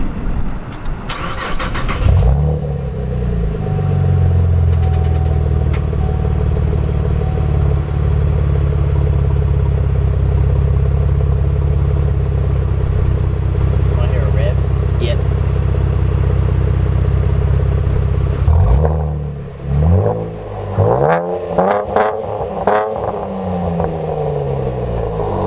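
A Chevrolet Camaro with a manual gearbox starts up and its engine roars loudly and continuously up close during a drift, then drops away to a few sharp rev blips and clatter near the end.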